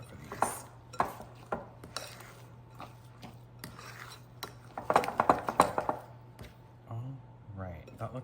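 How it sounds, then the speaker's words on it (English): Cheddar garlic biscuit dough stirred in a bowl at home, a run of soft scraping, tapping strokes against the bowl with a low steady hum underneath, louder and busier near the end. "Get it mixed up really well."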